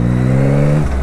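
A Yamaha MT-09 motorcycle, still in its break-in period, holds a steady, loud engine drone close by that drops in pitch near the end, with no speech.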